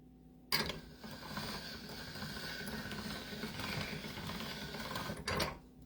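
A hand-cranked pasta machine rolls fresh pasta dough, a steady mechanical whirring and clicking of the rollers that runs continuously at moderate volume, with no talk.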